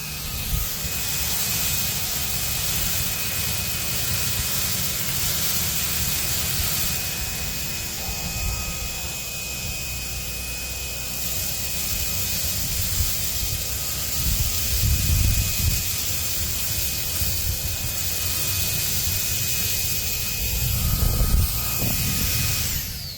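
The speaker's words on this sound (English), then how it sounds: "I sent me this here cordless vacuum cleaner, and I'm gonna see if it works." A cordless vacuum cleaner picking up spilled rice on hardwood flooring and a rug, making a steady, loud whirring drone throughout with faint rattles and bumps as it passes over the grains.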